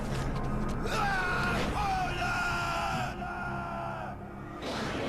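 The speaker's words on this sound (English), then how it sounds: "it's screaming. I don't think that's normal." Anguished screaming and yelling from a character in Shadows of the Damned, loud and continuous for several seconds over dense game noise.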